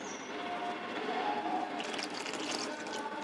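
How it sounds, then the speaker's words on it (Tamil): Water is poured into a batter of maida flour and egg for dosa, a soft, steady trickle and slosh heard up close at low level, building toward the end. "தண்ணியை ஊற்றி கரைச்சிக்கிடுவோம்."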